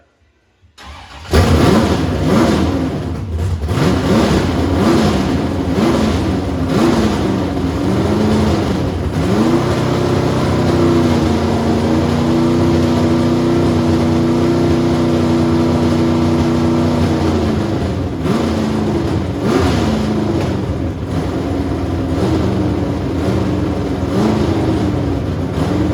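A 434 cubic inch race car engine fires up inside a shop and settles into a loud, rough idle, with several hard revs blipping up and falling back over the steady rumble.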